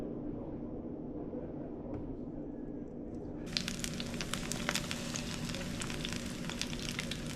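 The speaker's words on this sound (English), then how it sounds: "while they're frying" Beer-battered fish drops into hot oil partway through and bursts into a loud, crackling sizzle that continues steadily, preceded by a low background rumble.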